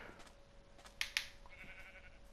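A short sheep bleat in Minecraft, two quick bright bursts close together, over a quiet steady background hum.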